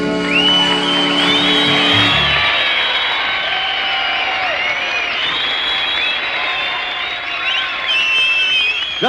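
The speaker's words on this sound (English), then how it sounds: "Just listen to them applaud, Connie." An audience applauds steadily and cheers with whoops and shouts, a dense sustained roar of clapping after music fades at the start.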